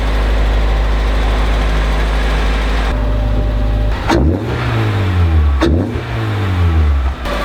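Mazda Miata rally car engine idling close by, then revved twice in sharp bursts that climb and fall away, loud with no talking.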